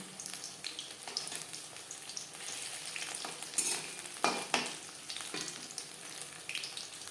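Paneer pieces fry in butter in a wok, a dense continuous sizzle with occasional louder spits and pops, close and fairly loud with no voices.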